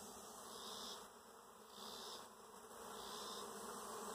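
A gentle swarm of bees hums outdoors in a steady, dense buzz that swells and eases slightly, close and continuous with no talking.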